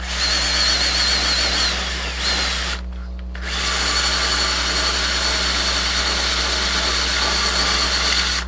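Power tool spinning a soft scuff pad against the metal of a car's cylinder head, a steady, loud high whine with a brief pause partway through, with no talking.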